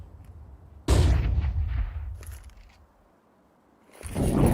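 A grenade goes off in a Counter-Strike 2 esports match, one loud, close boom that fades through its tail, followed by a second swelling blast near the end, with no talk over it.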